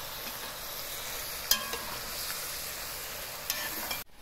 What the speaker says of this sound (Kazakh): Енді қосып араластырамын.